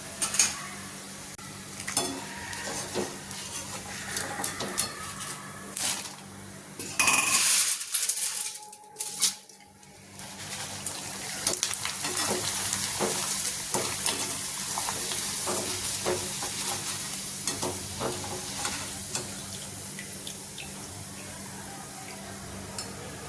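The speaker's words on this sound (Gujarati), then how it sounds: "આવી રીતે આપણે પૌવાને તળી લઈશું।" Thin poha flakes fry in hot oil in a pan while making mamra chevdo, a continuous crackling sizzle with bursts of stirring and metal scraping, a brief quiet gap, then steady frying again.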